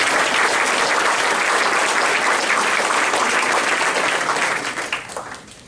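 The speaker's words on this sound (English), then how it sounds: "Another round of applause for our students of the month." Sustained applause from a school board meeting audience honoring students of the month, steady dense clapping for about four and a half seconds before tapering off.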